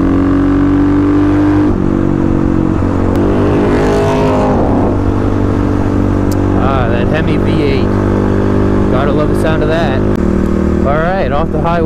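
Supermoto motorcycles cruise down a highway in a group, a steady loud engine drone with wind rush running throughout, and a person talks over it in places.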